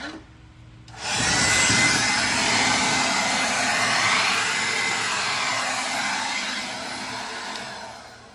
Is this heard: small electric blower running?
yes